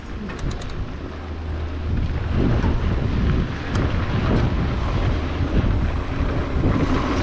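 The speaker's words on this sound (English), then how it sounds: "Windy!" Wind roars steadily across the microphone during a mountain bike descent at Northstar, a loud, continuous broadband rush that swells and buffets throughout with no talking.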